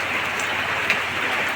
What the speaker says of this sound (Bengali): দেখুন বৃষ্টি পড়তেছে